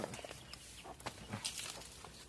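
Chickens, a small black hen among them, clucking in a backyard flock, several short clucks scattered over steady outdoor background noise, fairly close.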